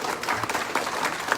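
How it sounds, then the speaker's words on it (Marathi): Brief burst of crowd clapping at a political party workers' gathering in Nanded, scattered hands over a busy room, moderately loud and short. "त्यासाठी आज आपण टाळ्या वाजवून त्याचं समर्थन द्यावं"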